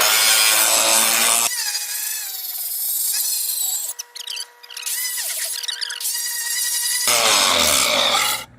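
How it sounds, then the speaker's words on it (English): Harsh abrasive grinding from an angle grinder disc polishing a weld bevel on a slammed gap fix, loud and close, with a brief quieter dip midway before the grinding resumes. "hold that disc down so you can polish that landing down how small you want it"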